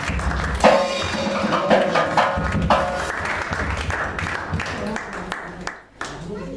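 A church congregation applauds and claps loudly in praise during a service, sustained clapping mixed with voices and cheering at close range.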